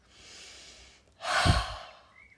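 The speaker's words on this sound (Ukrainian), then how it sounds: "Ми робимо швидкий глибокий вдих носом і різкий видих ротом зі звуком Х, як на морозі." A quick deep inhale through the nose, then a sharp, louder exhale through the mouth with a breathy 'h' sound, one breath cycle heard up close in quiet.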